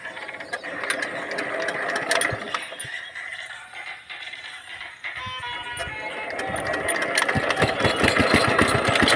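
A farm machine engine fires up during field work in a village, its mechanical clatter and ratcheting rising into a steady running drone that grows busier toward the end, with faint voices in the background.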